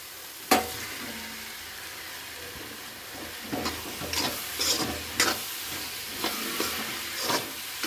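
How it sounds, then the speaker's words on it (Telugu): Pieces of bitter gourd fry in a pan with a low sizzle, broken by sharp clatters and stirring scrapes from a spoon, without speech. "ఇప్పుడు కాకరకాయలు వేసేస్తాను"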